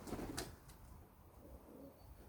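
Pigeons coo softly in a loft setting where birds are returning and settling, with brief wing flutters; the low cooing is faint and continuous amid background noise, with no speech.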